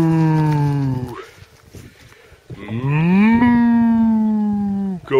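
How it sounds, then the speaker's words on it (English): A cow lows twice, long drawn-out moos close by and loud, separated by a brief pause filled with wind noise outdoors near a lakeside fishing spot in gale-force winds. "Moo! Go away. Or we'll be having steak."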